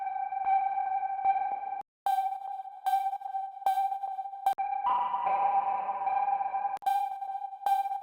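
A bright, distorted synth pluck plays a repeating tonal pattern, each note washing into a long reverb tail, with a brief gap near the start.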